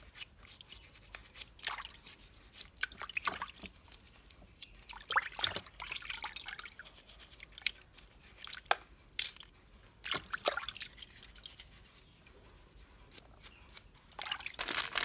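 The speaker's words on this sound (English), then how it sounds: "Use an old toothbrush to clean the corners and crevices easily." Ginger being scrubbed clean with an old toothbrush under running water, giving a steady dribble and trickle with scattered wet brushing and squishing bursts, close and moderately quiet, with no voices.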